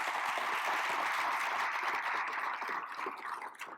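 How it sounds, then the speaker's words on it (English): Event audience applauding after sponsors and guests are introduced at a talk with a federal minister, a dense, steady round of clapping that tapers off at the end. "A big round of applause."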